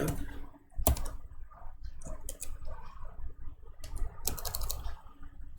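Keys clatter on a computer keyboard as code is typed, with quick irregular taps and a few louder strikes close to the microphone.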